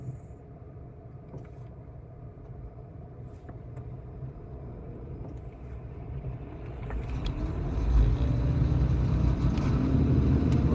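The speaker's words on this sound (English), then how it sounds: "We're driving to 7-Eleven, get some booze." Car interior drive on the way to a 7-Eleven store: steady low road and engine rumble throughout, growing louder and fuller toward the end as the car speeds up, with no talking.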